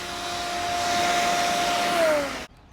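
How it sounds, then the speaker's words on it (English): A vacuum cleaner runs over a racquet stringing machine being restored, giving a steady, close whine and rush that holds for about two seconds, then drops in pitch as it switches off abruptly. "I'm gonna go ahead and just vacuum this one more time"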